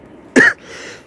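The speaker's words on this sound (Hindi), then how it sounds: "खांसी आ रही है।" A single short, sharp cough, close and loud, bursts out from a quiet outdoor setting in a snowy mountain town and quickly fades into low background hiss.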